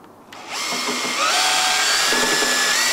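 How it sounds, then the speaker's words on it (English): A power drill whines up to speed and grinds steadily, its pitch shifting as it bites into a metal jerry can side locker box on a Land Rover Defender 110, close and loud. "All we've got to do is just drill through here so we can fix our drop down bolt latch."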